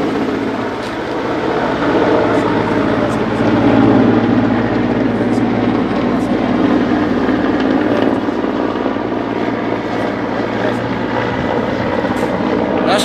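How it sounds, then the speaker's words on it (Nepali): Military helicopter hovering and departing after dropping rations at a commando training site in bad weather, its loud steady rotor drone and engine roar continuous throughout, with faint voices underneath. "हेलिकप्टर फेरि गइरहेको छ"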